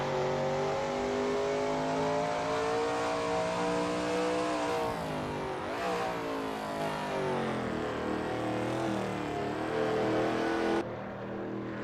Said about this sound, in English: the sounds of cheering fans should just barely be audible over the roar of the engine